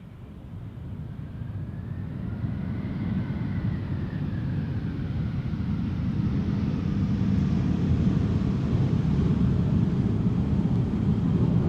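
An Air Malta airliner arriving at Amsterdam Schiphol Airport, a steady broad jet roar that builds slowly and holds loud with a faint whine sweeping above it, no voices.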